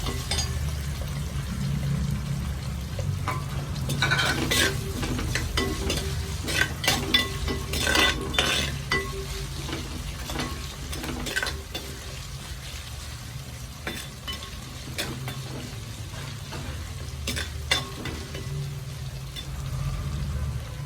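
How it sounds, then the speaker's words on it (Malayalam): A piece of ginger and a head of garlic fry in a pan for a mackerel chili curry, sizzling steadily for about twenty seconds under repeated clinks and scrapes of a stirring utensil. "ഒരു കുടം വെളുത്തുള്ളി എടുത്തിട്ടുണ്ട് രണ്ടും നന്നായിട്ട് മൂപ്പിച്ചെടുക്കാം"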